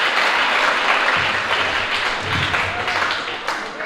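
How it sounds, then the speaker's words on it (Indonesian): An audience applauds a regional song and dance performance at a school language-month celebration, steady dense clapping filling the whole stretch with no voice over it. "Sekali lagi tepuk tangan untuk penampilan baru."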